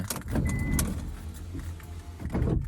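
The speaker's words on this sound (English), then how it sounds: "sometimes like even without like the keys in the ignition, I can roll the windows down" Electric power windows on an old van rolling down, a steady mechanical whir close by with faint jingling of keys, no voices.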